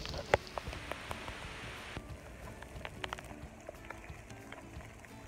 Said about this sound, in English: the wind and rain are just pouring horizontal across